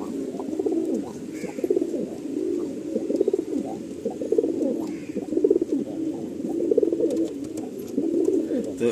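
Pigeons of a breeding pair cooing steadily and close by, repeated throaty coos in a continuous rhythm with no talk.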